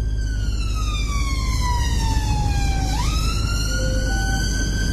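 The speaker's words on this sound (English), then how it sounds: "Just going to try out the siren." A vehicle siren wails loud and close, one long falling sweep that swoops back up before steadying, held over a constant low engine drone with no talking.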